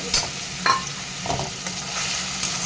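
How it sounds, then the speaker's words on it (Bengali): A paste of mustard, poppy seed, cashew and green chilli sizzles in hot oil, a steady frying hiss marked by several scrapes and taps of a spoon against the pan, close with no talking. "এবার আমি এর মধ্যে সর্ষে আর পোস্ত কাজু বাদাম কাঁচা লঙ্কার পেস্টটা দিয়ে দেব"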